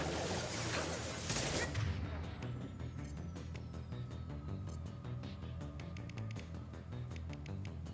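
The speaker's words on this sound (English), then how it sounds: "Stop shooting, Shepard!" Gunfire in the video game Mass Effect 2, with a dense burst of shots early on followed by scattered sharp cracks over a busy background of game sound.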